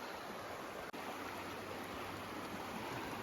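Sheep River in South Kananskis flowing steadily, a dense, even rushing of water heard close and continuous with no talking, only a single brief dropout breaking the wash.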